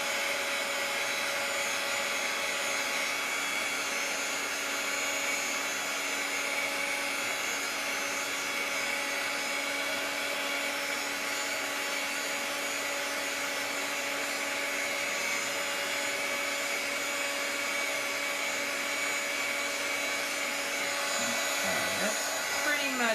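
Hair dryer blowing steadily on the back of a watercolor greeting card with a salt-textured Tombow Dual Brush Pen background, a loud continuous whirring hum that holds evenly throughout.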